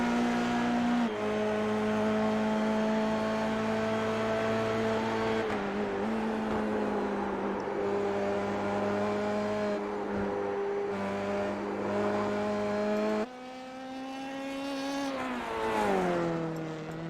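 Dallara formula car in a racing video game at Spa, engine screaming at high revs as it climbs through the gears with brief dips at shifts, then a drop and a sharp rise again, loud and continuous.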